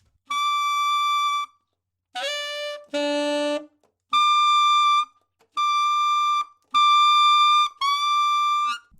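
Bright, piercing altissimo saxophone notes from overblowing the fork F fingering, held steadily, several sustained tones separated by short breaths, one lower pitch in between.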